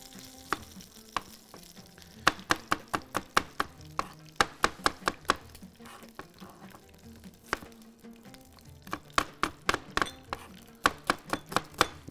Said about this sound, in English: I'm going to slice the onion, which doesn't take